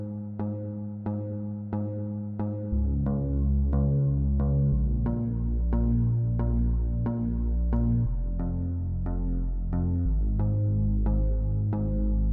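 A clean, plucked guitar repeats a steady arpeggiated pattern in an 80s-inspired synthwave track, then a deep bass line enters beneath it and holds sustained notes as the guitar continues.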